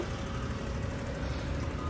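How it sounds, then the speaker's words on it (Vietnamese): A Daewoo Matiz car engine idles with a steady, even rumble and hiss that holds constant throughout, close by, with no one speaking. "đang nổ máy đây ạ"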